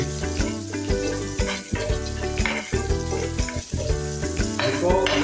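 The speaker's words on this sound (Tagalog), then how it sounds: "Then, igigisa na po natin yung sibuyas" Onion and garlic sautéing in a pan make a loud, continuous sizzle close by, broken by occasional utensil scrapes and clatter as they are stirred.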